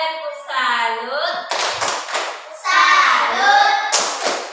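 A class of children performs a rhythmic tepuk salut clapping routine, chanting together between short bursts of sharp group claps, close and loud.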